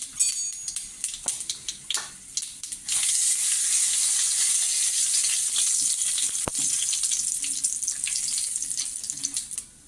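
Asafoetida goes into hot oil in a pan, setting off a sudden steady sizzle after a few scattered clinks and taps, with the frying hiss continuing close and fairly loud.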